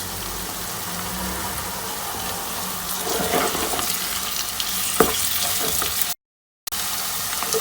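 Garlic and ginger paste frying with onions in a pan, a steady broadband sizzle with light stirring scrapes and a brief dropout near the end, no talking.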